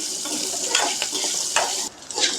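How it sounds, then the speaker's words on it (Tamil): Small shallots sautéing in masala for a goat intestine curry, a steady bright sizzle with soft scraping stirs of a spoon in the pan, close and continuous with no talking. "சின்ன வெங்காயம் சேர்த்து நல்லா வதக்கிக்கலாம்"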